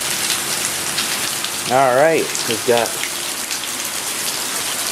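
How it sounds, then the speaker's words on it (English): Steady rain from Hurricane Irma falls across a garden near a house, a dense continuous hiss of drops on surfaces throughout, with someone briefly speaking over it partway through. "and some rain. Starting to get a little bit of saturation here, a little bit of a breeze."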